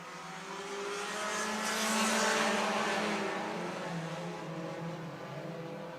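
Super late model race cars roar past at Georgetown Speedway, a broad engine rush swelling and fading at moderate distance, with no voices over it.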